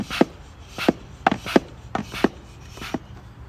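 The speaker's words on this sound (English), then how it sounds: "So now what you're gonna do is you're just gonna give it a couple pumps." A Schwaben fluid extractor is hand-pumped to draw oil from the oil pan of an Audi S4, giving a series of about eight short rhythmic strokes with a rasping, airy pump sound, close up with no speech.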